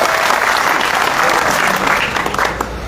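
A crowd at a village election gathering in Haryana, India, claps loudly and continuously throughout, with a dense, close burst of applause and some voices mixed in.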